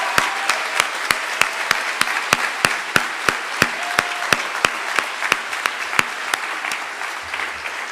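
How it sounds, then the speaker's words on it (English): Crowd applause at a 2014 convocation rises for first-year students and staff, a dense wash of clapping punctuated by a steady series of sharp, evenly spaced loud claps near the microphone. "I'd just like a round of applause for all first-year students, first-year staff,"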